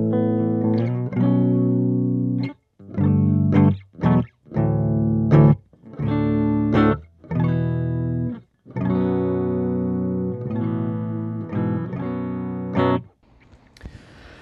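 Electric guitar through Kyro Audio Dulo and Kuki pedals, strumming a series of distorted rhythm chords in short bursts separated by brief gaps, each chord ringing loud and full before the last fades.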